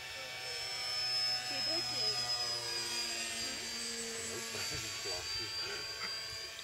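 Radio-controlled model airplane flying over a hill at sunset, a steady thin engine whine with a sustained high tone drifting in pitch, moderately loud and continuous, with people talking nearby.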